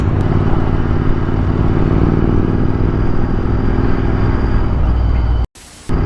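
A motorcycle fitted with a Red Rooster exhaust, damaged in an accident, idles and runs with a loud, steady, throbbing engine note close to the microphone, then cuts off abruptly near the end.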